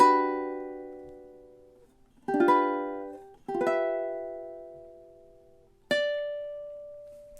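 Ukulele playing measures 9 and 10 of a song: four separate plucked chords or notes spaced apart, each ringing out and fading before the next, close and clean with no talking.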